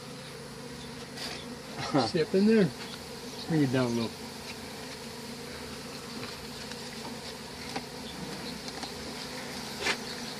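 A bee swarm buzzes steadily throughout, a dense insect hum with a few nearby bees passing close, while people talk briefly in the middle.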